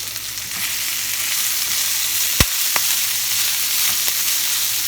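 A vegetarian Mexican breakfast hash with spinach sizzles steadily in a frying pan while being stirred, a constant hiss of frying broken by a couple of sharp clicks of the utensil against the pan.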